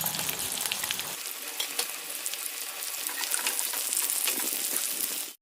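Onions frying in hot oil in a kadai sizzle loudly and continuously, with occasional stirring scrapes near the pan while a methi, palak and peas curry is being made.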